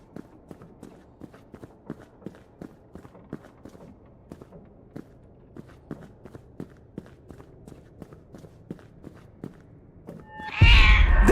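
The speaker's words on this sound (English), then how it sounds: "that cat is gonna make a noise. That horrible, horrible noise" Cat from the game Order 13 lets out a loud, harsh meow near the end, bursting in after a long stretch of steady, faint rhythmic footsteps.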